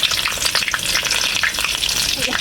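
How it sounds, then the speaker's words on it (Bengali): Whole garam masala, bay leaf and dried red chillies hit hot white oil in a kadai at the start of an egg omelette curry, producing a loud, dense, continuous crackling sizzle with no speech. "তেল গরম হয়ে গেছে তেলে দিয়ে দিব কয়েকটা গরম মশলা তেজপাতা শুকনো মরিচ"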